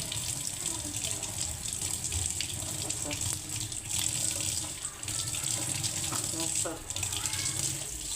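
Steady running tap water with splashing as mutton intestines are rinsed underneath, some clinking and handling noises throughout.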